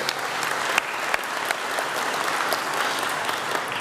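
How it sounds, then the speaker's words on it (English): Graduates and guests at a university graduation ceremony applaud loudly, a dense continuous crowd clapping with a few sharper individual claps standing out. "give yourselves a round of applause for turning out today"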